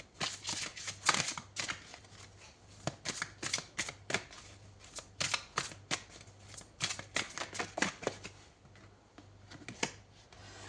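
Tarot cards shuffled and drawn during a horoscope reading, giving a close, steady run of crisp riffling snaps and flicks for about eleven seconds with no voice.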